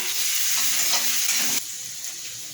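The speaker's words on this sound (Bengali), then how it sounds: "পেঁয়াজগুলো লাল লাল হয়ে ভাজতে থাকবে" Onions fry in oil in a wok with a loud, close, continuous sizzle, stirred once, and the hiss drops slightly in level partway through.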